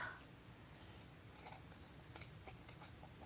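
Scissors snip through a handmade skinny card, a run of short crisp cuts at close range, quiet and without talk.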